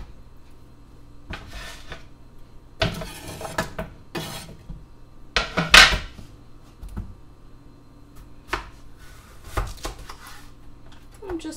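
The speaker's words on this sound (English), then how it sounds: "I'm just cutting this up" A knife cuts summer squash and other vegetables for a vegan soup in a home kitchen, giving irregular, close-up knocks and chops on a board with brief clattering of utensils between quieter pauses.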